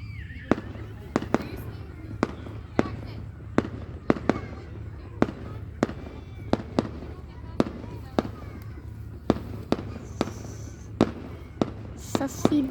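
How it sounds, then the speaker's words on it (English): Fireworks bursting outdoors in a steady series of sharp bangs, about one every half second to second, crisp and fairly close, with people chatting faintly in the background. "that's some cool fireworks."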